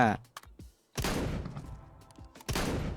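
Shotgun blasts in the video game CS2, two loud booming shots with a gap between, each trailing off, with faint clicks and game noise around them.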